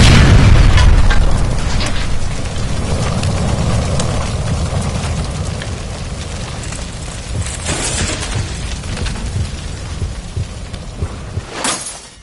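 Gas line explosion in L.A. Noire, a loud deep boom at the start that rolls into a long rumbling roar and fire crackle, fading gradually with a sharp burst near the end.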